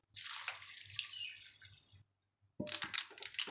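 Water from a tap runs and splashes while a tray of sliced potatoes is prepared, a steady pour that stops briefly and then resumes, close and fairly loud with no talking.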